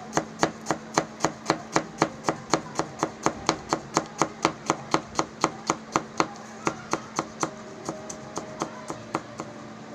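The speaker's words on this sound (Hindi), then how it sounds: "ये हमने प्याज चॉप कर लिया" A knife finely chopping onion on a board, about thirty even, crisp knocks in a fast steady rhythm, close and loud, slowing slightly near the end.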